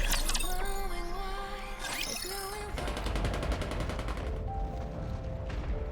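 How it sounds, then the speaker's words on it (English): Rapid gunfire from the video game Ark Guardian, dense bursts of shots layered over game music and effects, loud and continuous throughout. "Gunfire rings out."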